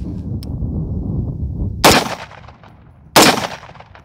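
Two loud, sharp rifle shots ring out about a second apart, fired at a target with hollow point, steel core and 77 and 55 grain FMJ bullets, each cracking over a low steady background rumble.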